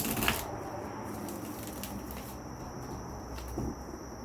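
Tarot cards being shuffled up close, a steady soft riffling and papery patter with a couple of slightly louder flicks, heard alone with no talking.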